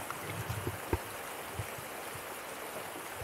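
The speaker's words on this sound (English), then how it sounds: "beautiful creek." A mountain creek along the Stanley Glacier trail runs steadily with a soft, even rush of water, fairly quiet and continuous, with a few faint knocks.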